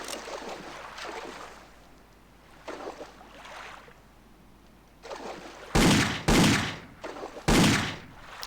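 Gunshots in Indiana Jones and the Infernal Machine ring out as three loud, sharp blasts in the final seconds, following quieter ambient game sounds and splashing-like noise.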